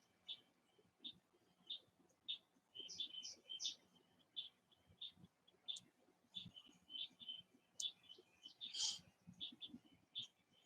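A blind bird chirps in short, high, faint tweets, scattered irregularly and repeated throughout, with light clicks and soft background noise.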